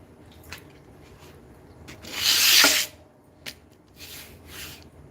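An old masonry chisel being turned into a woodworking chisel is rubbed on flat sandpaper, giving faint scratchy strokes and one louder, longer rasping pass in the middle, heard alone.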